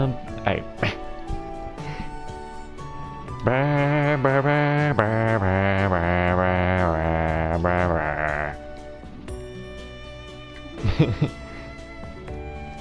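A synthetic sheep bleat from the video game Trails of Cold Steel IV, wavering and sustained for several seconds, with brief clicks and voice-like sounds before and after.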